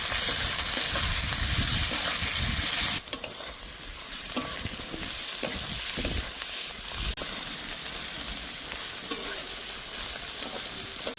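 Chopped onions and tomato sizzle and fry in a pan while being stirred, a loud, close frying hiss that drops into softer crackling and scraping.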